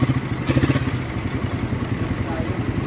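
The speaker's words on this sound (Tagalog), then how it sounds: "Ito yung motor niya. Start mo nga ito." A motorcycle engine with a carburetor runs at idle nearby, a rhythmic chugging pulse with some light clattering, steady and moderately loud throughout.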